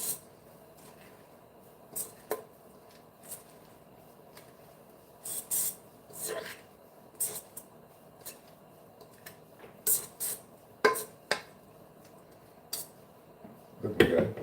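Cooking food is stirred in a pot with a utensil, giving scattered scraping and clattering knocks at irregular intervals over a quiet background, with a louder clatter at the end.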